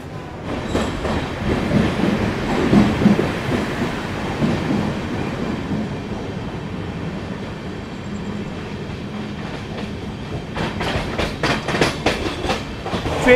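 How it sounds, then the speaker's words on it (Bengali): The Howrah Kalka Netaji Express pulls out of Bardhaman Junction, heard from on board as a close rolling rumble with rhythmic wheel clatter that grows into sharp, quick clicks over rail joints toward the end. "ট্রেন কিন্তু ছেড়ে দিল বর্ধমান জংশন"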